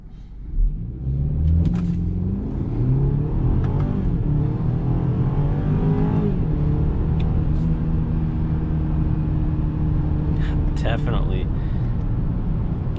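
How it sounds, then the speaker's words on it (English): A 2021 BMW X3 SUV launches hard off a brake boost in manual mode, its engine note loud and close as it climbs steadily in pitch, dropping back at upshifts and pulling again through the gears. "I'm gonna go ahead and brake boost it for you guys here, and basically see how this SUV does"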